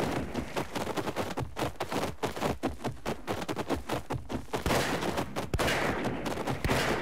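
Rapid gunfire in the video game Paint the Town Red, a loud continuous volley of sharp shots in quick irregular succession, dense and relentless throughout with no talking.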